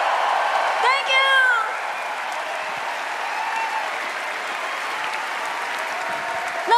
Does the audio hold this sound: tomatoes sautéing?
no